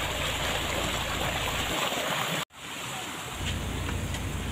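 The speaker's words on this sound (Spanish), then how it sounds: "se escucha muy bonito, muy relajante el ruido de lo que es pues el agua cayendo" Small waterfall at a swimming resort in Chiapas, a steady, loud rush of falling water filling the whole clip, with one brief dropout midway.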